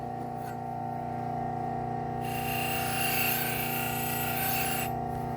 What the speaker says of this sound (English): with my Scotch-Brite. Take the burr off.